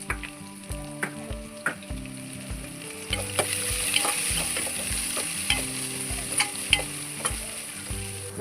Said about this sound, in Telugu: కొంచెం అల్లం వెల్లుల్లి పేస్ట్, పచ్చి వాసన వేయ వరకు వేయించుకోవాలి.